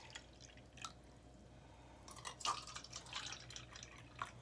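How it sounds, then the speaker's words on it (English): Water pours into a row of cups in short, faint splashes and trickles, close but quiet over a low background hum, with a couple of small clinks. "So we're going to pour some in the 3 alternating cups."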